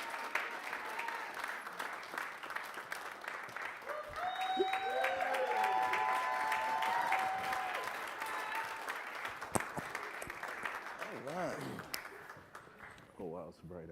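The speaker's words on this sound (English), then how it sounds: "So give them a big round of applause" An audience at a hip hop journalism event gives a round of applause, a broad wash of clapping and crowd noise swelling then fading over several seconds, with voices heard beneath.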